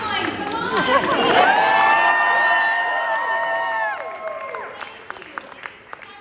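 Loud audience applause and cheering fill a room at a campaign event in a restaurant, with whoops and shouts rising early, sustained clapping, then tapering to scattered claps by the end.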